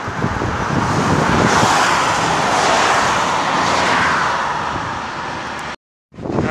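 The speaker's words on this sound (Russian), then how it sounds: "Очень много машин." Dense road traffic on a hot day in Thailand, a loud steady roar of many passing cars and engines close by, with a brief cut to silence near the end.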